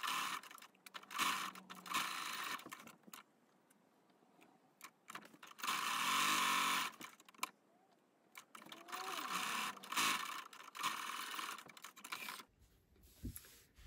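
A sewing machine stitching a fabric seam with a 1 cm seam allowance, running in several close whirring bursts separated by pauses and small handling clicks.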